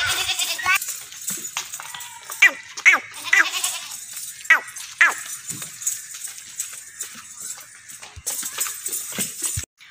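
Goats, including pregnant does and does with two kids, bleat repeatedly at a livestock sale, with several sharp calls in the first half and a noisy stretch near the end, fairly close.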